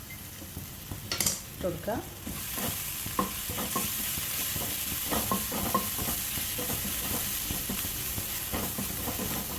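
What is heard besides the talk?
stirring shallots and green chillies frying in coconut oil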